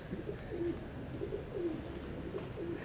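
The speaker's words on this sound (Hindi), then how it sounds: "बहुत बहुत अच्छी कबूतरी है ये" Breeding female pigeon with fancy feathers coos softly at close range, several low rolling coos repeating in a slow rhythm over a quiet background, with no talk.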